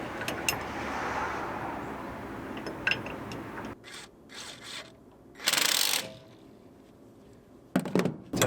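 Ratchet tightening Ford Explorer Limited AWD front end sway parts, several short bursts of clicking with gaps, close and fairly loud, no talk.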